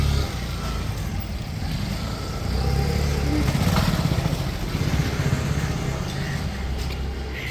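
A motorcycle engine rumbles steadily nearby, swelling louder in the middle as it passes and then easing slightly, a continuous low drone with no clear speech over it.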